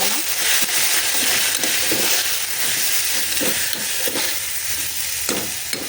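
Vegetables with turmeric, coriander powder, red chilli powder and sambar powder are stirred in a sizzling frying pan, a steady loud hiss broken by repeated scraping strokes of the spoon.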